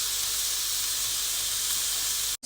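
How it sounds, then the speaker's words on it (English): Meat frying and searing in butter in a pan, giving a steady, bright sizzling hiss that holds evenly throughout and then cuts off abruptly right at the end. "just frying in some butter and searing up nicely"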